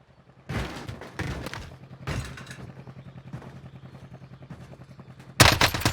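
Gunfire in a battle royale shooter game: several loud, close bursts of rapid shots separated by quieter stretches with a low rhythmic thumping, ending in a heavy burst of fire.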